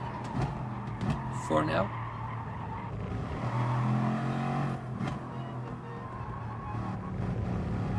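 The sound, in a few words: Bugatti Veyron race cars racing, from video game GT Sport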